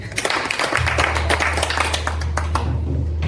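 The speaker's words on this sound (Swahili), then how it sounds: "Makofi kwake." A small group at a Jamii Jogging Club gathering clapping for Angel, a quick rapid patter of hands with a low hum beginning underneath partway through.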